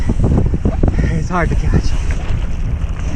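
Strong gusting wind roars across the microphone while wing foiling on the water, a loud, constant rush under a man's brief spoken remark.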